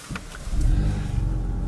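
Car cruising on a long drive through France toward the Eurotunnel, a steady low engine and road rumble from inside the cabin that swells slightly before holding constant.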